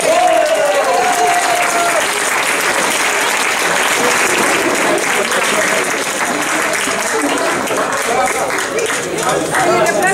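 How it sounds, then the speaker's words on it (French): A theatre audience breaks into sustained, dense applause that fills the hall, steady and loud throughout, with a few voices and a brief whistle-like tone near the start. "On peut les applaudir?"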